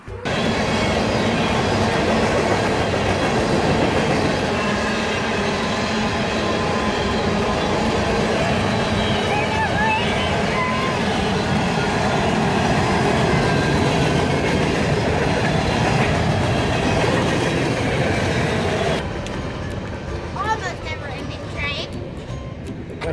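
A train rumbles steadily past on the tracks beside a park pavilion in Sadieville, Kentucky, for about twenty seconds, loud and close, with wheels clattering and a faint squeal before it fades into quieter outdoor sound.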